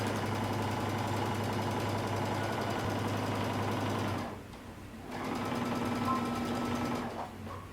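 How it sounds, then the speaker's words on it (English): Sewing machine stitching a coat sleeve seam at a 5/8-inch seam allowance: a fast, even mechanical chatter that runs steadily, pauses for about a second, then resumes at a slightly different pitch, moderately close. "starting at the bottom, we're going to sew using 5/8 of an inch seam allowance"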